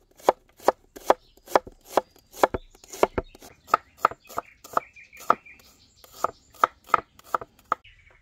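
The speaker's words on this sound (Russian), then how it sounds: "Я просто нарезаю мелко лук." A knife finely chops onion on a board, about two crisp, sharp strikes per second, close and alone with no talking.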